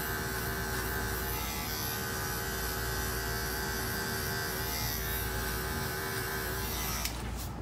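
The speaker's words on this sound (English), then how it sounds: "My clipper lever is all the way closed and I'm going in to get that nice clean look right in that sideburn area" An Andis hair clipper, lever fully closed, trims a sideburn area with a steady close electric buzz that hums evenly throughout, with a small click near the end.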